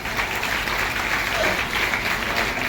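A crowd at a Hindi poetry recitation breaks into a brief burst of dense, even applause that stays steady throughout.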